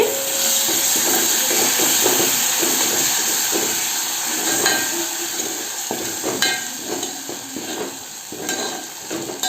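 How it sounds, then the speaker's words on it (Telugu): Tomato and cashew paste fries in a pan on a low flame for a restaurant-style masala mushroom curry, giving a steady close sizzle and hiss with intermittent scraping stirs and clinks of a spoon. "టమాటా జీడిపప్పు పేస్ట్ అండి ఇది ఇలా వేసుకోవాలి సిమ్లోనే ఉంచుకొని వేయించుకోండి"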